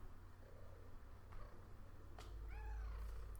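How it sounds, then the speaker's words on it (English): A chonky cat gives a couple of soft, faint meows indoors near the end, over a low rumbling background hum, with no talking. "Just roll over, you chonky cat."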